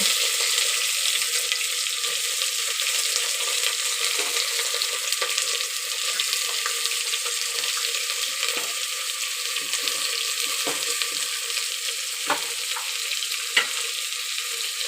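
Sliced onions sauté in oil for a pressure-cooker biryani, giving a steady, even sizzle that carries on without a break, with faint scrapes from the stirring.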